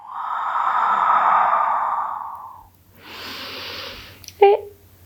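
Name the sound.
deep breathing during prenatal yoga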